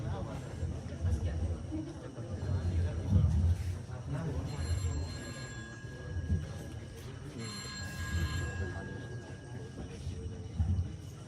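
A telephone rings during a school stage play, its repeated electronic trill cutting through a noisy hall with people talking and background chatter throughout.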